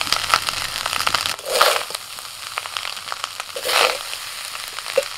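Rice frying in ghee in a pan, crackling and scraping steadily, with two louder swells of stirring and sizzling, close up and with no voices.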